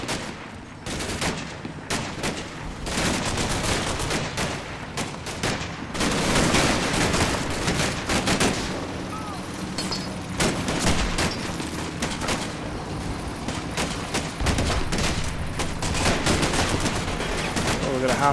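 Gunfire from an infantry fight in the Combat Mission Battle for Normandy war game, with dense rattling bursts of rifle and machine-gun shots, some distant, alongside occasional booms, continuing steadily throughout.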